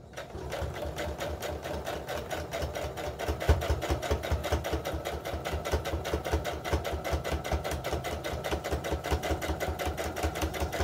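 Sewing machine running steadily around a small homespun fabric heart ornament with a quarter-inch seam, a close, even rapid chatter of stitches continuing throughout with no talking.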